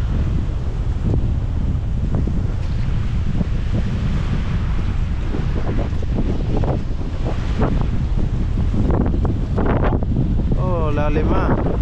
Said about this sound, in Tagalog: Grabe, tumodo bigla ang hangin.